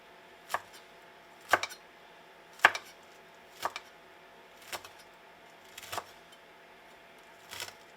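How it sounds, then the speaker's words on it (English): Knife chopping shrimp and other ingredients on a cutting board for New Orleans-style BBQ shrimp, seven separate sharp chops spaced roughly a second apart, close and fairly quiet, with no talking. "I'm just going to start chopping it up."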